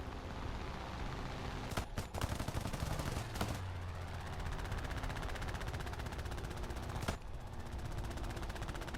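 Aircraft machine guns firing in a fighter-plane combat video game, a dense continuous rattle of rapid shots broken by a few short gaps, with a low rumble of engine noise underneath.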